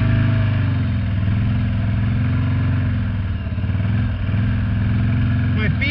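A Harley motorcycle engine rumbles steadily and loudly up close while the bike slides and drifts on snow over ice, the low drone holding throughout with slight dips, someone talking over it.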